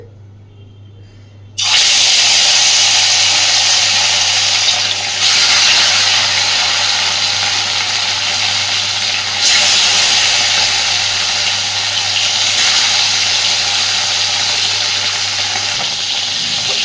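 Fish frying in hot oil in a home kitchen while a cauliflower fish curry is cooked, a loud, steady, close hiss and sizzle that starts abruptly and then holds at a constant roar, with no talking.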